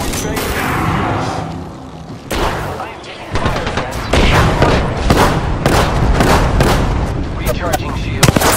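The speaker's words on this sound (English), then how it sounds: "I am taking fire again." Gunfire in the video game Apex Legends on PS4 Pro, with repeated loud bursts of shots and booming impacts across the whole stretch, sharp cracks clustering near the end, and a voice talking over the barrage.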